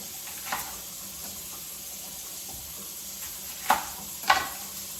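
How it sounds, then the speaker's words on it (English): An onion is rinsed under cold running tap water. There is a steady hiss of water with a few brief splashes and knocks near the end, close and fairly quiet. "run it under cold water for a good minute"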